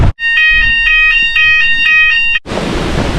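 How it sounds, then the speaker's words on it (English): A hotel fire alarm goes off at night, a loud, piercing electronic tone that pulses in rapid repeated beeps for about two seconds before cutting to a rushing, noisy hiss. "2 AM the fire alarm went off."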